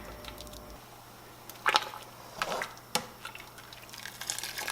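A spoon stirs a pot of 15-bean soup with ham, giving soft wet sloshes and a few scraping knocks against the pot over a low kitchen hum.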